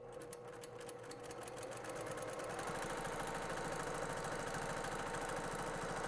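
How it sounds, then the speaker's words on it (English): A sewing machine runs steadily while stitching a tool roll, its needle chatter fast and even, rising to a louder continuous whir after the first couple of seconds and holding close and unbroken throughout. "I'm just going to sew all the way out that bottom corner and then return."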